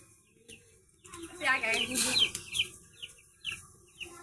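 Chickens in a village yard of a family that keeps hens, ducks and goats, giving short clucks and chirpy calls at close range, with people talking over them in the middle of the stretch.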